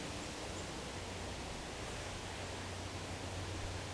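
Water running steadily from the tap of a Gravityworks gravity water filter, flowing through the full hose into the clean-water bag, a continuous even rushing noise that stays alone and unchanged throughout.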